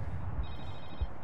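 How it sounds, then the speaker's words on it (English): Cell phone ringing in the 2010 video game Medal of Honor, a short electronic ring tone sounding faintly under a low rumble of ambient game noise. "Cell phone."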